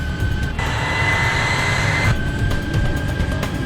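Airliner engines during the takeoff roll of Air France flight 296 in 1988, a steady loud roar with a tonal whine that rises briefly, heard from the cockpit.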